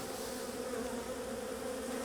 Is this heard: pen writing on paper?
no